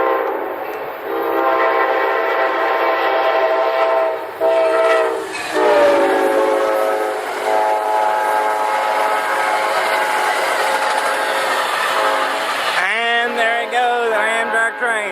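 A train passes close by, its horn sounding long, loud, sustained blasts over the rumble of rolling railcars, ending with a final burst of horn as the train charges past.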